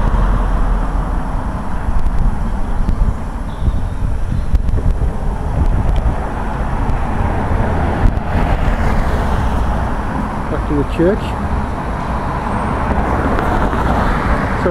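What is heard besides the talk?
road traffic passing a church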